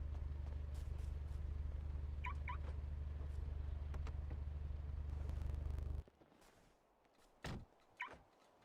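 Car engine idling in a GTA roleplay game, a steady low hum that stops abruptly partway through, followed by a couple of short thumps in the quiet.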